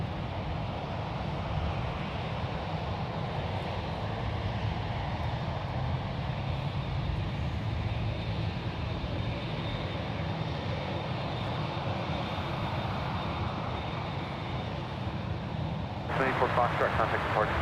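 KLM 787-10 taxiing toward a runway at San Francisco airport, a constant distant jet engine hum and rumble throughout, with a brief louder burst of noise near the end.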